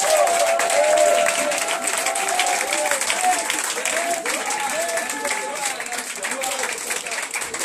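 A church congregation claps and cheers in praise of the Lord, a loud, continuous wash of applause with shouts mixed in, holding steady for several seconds.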